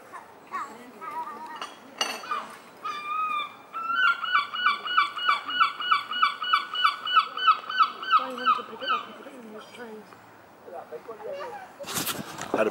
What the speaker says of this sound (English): Seagulls just waiting for any scraps